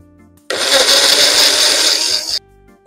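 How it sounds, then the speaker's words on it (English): A kitchen blender whirs loudly for about two seconds, pureeing a cheeseburger, with a steady high-pitched motor roar that starts abruptly and cuts off just as sharply, with quiet room tone before and after. "Like if I were to blend this cheeseburger."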